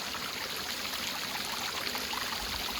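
Steady rushing water of a mountain waterfall and stream near a temple, a dense, continuous splash and flow close by with no voices over it.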